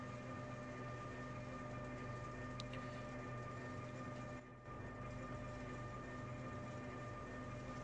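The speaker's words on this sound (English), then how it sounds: "that's a train" A passenger train passing on the Pilzbergbahn Railway in Trainz Railroad Simulator 2019, with a steady loud rumble and droning hum that fills the whole stretch and briefly dips about midway.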